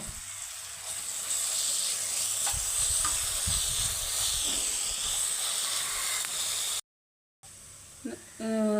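Sliced onions with ginger-garlic paste sauté in a pan for pressure-cooker chicken, giving a soft steady hiss with faint stirring scrapes, then a brief silence and a short scrape near the end.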